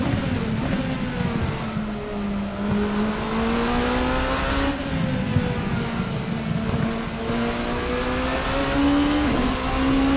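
Rebellion R13 LMP prototype race car in the Assetto Corsa racing game, engine droning loud and continuous as it accelerates and shifts through gears, pitch climbing and dropping back repeatedly.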